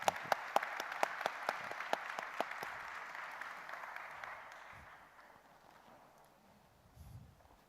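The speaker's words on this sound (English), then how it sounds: "Please join me in giving a warm round of applause." An audience at a cybersecurity forum gives a round of applause that starts with distinct sharp claps, thins out and fades gradually to near quiet, with a faint murmur at the end.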